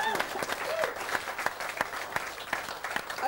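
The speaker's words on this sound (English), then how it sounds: "Big round of applause again for these two." An audience claps for two folk musicians, a guitarist and a fiddler, after their set: lively, steady applause filling the room, with a faint tonal ring over the clapping.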